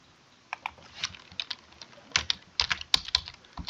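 Someone types a name on a computer keyboard, giving a quick, uneven run of crisp, close key clicks that grow busier and louder toward the end, with no voices.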